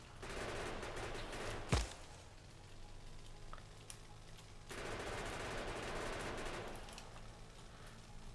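Gunfire in the video game Factorio sounds as a dense, continuous crackling stream of rapid shots with one sharper crack near the start. The bursts rise and fall across the stretch at a moderate level.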